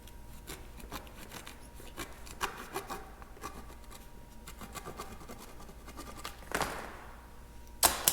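A sprayer tube being cut by hand, heard as a run of soft rasping and scraping strokes up close, with a couple of sharper snaps near the end and no voices.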